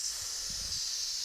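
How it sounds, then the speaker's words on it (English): Air hissing steadily from a punctured tire on a big Jeep, a continuous faint hiss heard alone with no talk. "That was our big old Jeep tire leaking air."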